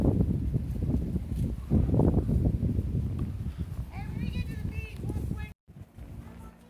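A big horse on a trail ride on Jekyll Island, Georgia, its hooves clip-clopping in a steady rhythm close by, mixed with people talking and bumping ride noise before a brief dropout.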